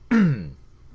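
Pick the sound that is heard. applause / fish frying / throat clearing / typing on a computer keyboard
throat clearing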